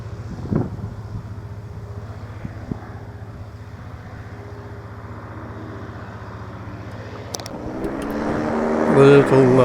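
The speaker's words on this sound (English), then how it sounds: "The little powered hang glider coming in." Small powered hang glider engine droning steadily as it comes in to land at an airfield, with wind buffeting the microphone and the engine tone rising louder near the end.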